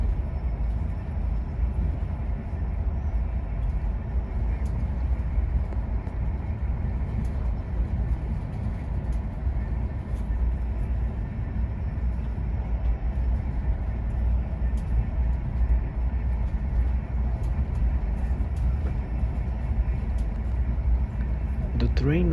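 Steady, loud low rumble inside a fast train running through snowy winter mountains, with continuous rolling noise and faint occasional clicks, unchanging throughout, no talking.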